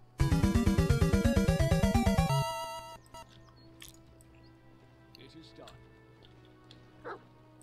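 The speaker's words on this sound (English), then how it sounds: "Oh, a dog." A dog in the video game Pathfinder Kingmaker gives a rapid, loud run of about a dozen evenly spaced barks. The barking then cuts off, leaving quiet game ambience with a few faint sounds.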